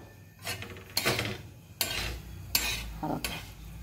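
Coconut and coriander masala roasting in a pan for a village-style vegetable dish, heard as a few loud bursts of stirring and scraping of a utensil against the pan with a faint sizzle between them.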